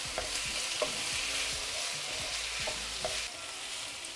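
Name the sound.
chicken pasta ingredients frying in a pan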